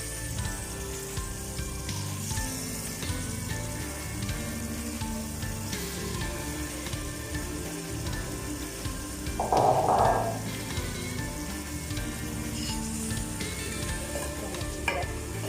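Chicken pieces with peas fry in a pan for matar gosht, a steady dense sizzle running throughout, with the scrape and clatter of stirring rising briefly in the middle; no voices.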